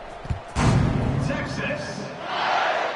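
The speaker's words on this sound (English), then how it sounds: "this crowd is buzzing after that last score" A football stadium crowd at a Texas versus Arkansas game buzzing with a loud, swelling roar after a thump, with a commentator talking over it.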